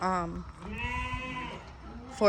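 Sheep bleating close by on a farm in Ghana, two or three wavering calls with a fresh bleat cutting in at the end.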